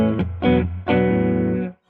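A distorted electric guitar through a Heather Brown Electronicals Sensation Fuzzdrive pedal, on its second saturator setting, plays a few short, buzzy chords, then one sustained fuzzy chord rings out before cutting off abruptly.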